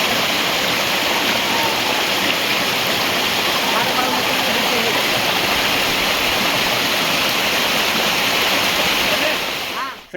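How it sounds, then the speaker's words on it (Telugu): Palakolanu waterfall near Kurnool in Andhra Pradesh roars in a loud, steady, unbroken rush of falling water, close by and continuous, fading slightly only at the very end. "ఈరోజు అయితే మనం కర్నూలుకి దగ్గరలో ఉన్న పాలకొలను వాటర్ ఫాల్ దగ్గర అవుతున్నాం"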